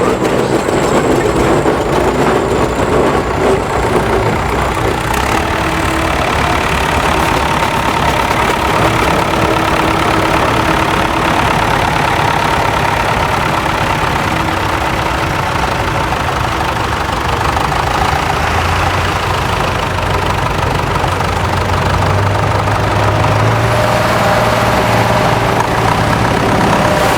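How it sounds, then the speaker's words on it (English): Tractor engines idle at an agricultural show, giving a dense, continuous rumble with low knocking, loud and close and steady for the whole stretch, with a deeper engine drone rising toward the end. "as the tractors line up in front of the VP's enclosure"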